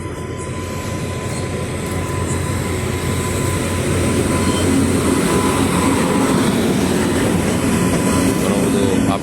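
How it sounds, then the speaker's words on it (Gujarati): A train pulls into a railway platform with a loud, continuous rumble of wheels and carriages that swells slightly as it nears, without talk. "ફાઇનલી ટ્રેન આવી ગઈ છે પ્લેટફોર્મ ઉપર"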